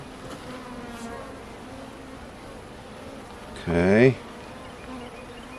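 Honey bees during a first hive inspection: a soft background hum, then one bee buzzes loudly past close by for about half a second, and a person briefly speaks.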